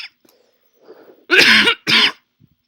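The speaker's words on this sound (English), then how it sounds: "Sorry for the coughing again." A person coughs twice in quick succession, loud and close, after a brief softer throat sound, with near silence around the coughs.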